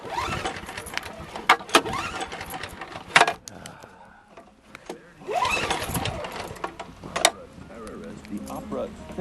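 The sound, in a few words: snowblower engine cranking and starting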